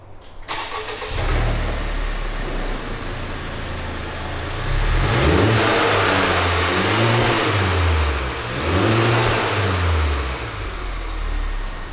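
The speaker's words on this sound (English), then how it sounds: "the flaw is its exhaust. It's way too quiet for a sports car." A Honda Civic Type R engine cranks and starts, settles into a low idle, then revs up twice through its quiet stock exhaust, close and steady with no talking.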